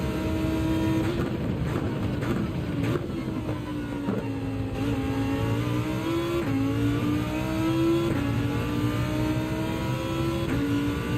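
A race car engine in Gran Turismo 7 drones loudly around the Red Bull Ring, with its pitch rising and falling through gear changes and throttle lifts. The tone stays steady and continuous, close to the listener, with no speech over it.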